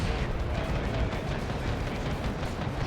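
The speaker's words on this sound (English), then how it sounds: "Melter Bomb goes off on rear armor" Melta bomb detonating against a tank's rear armor in the strategy game Dawn of War 2: Retribution, a dense, continuous roar of battle explosions and rumbling blasts that holds steady and loud throughout.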